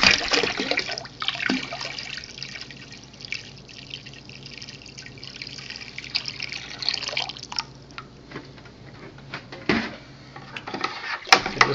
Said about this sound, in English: Definitely add some more water in.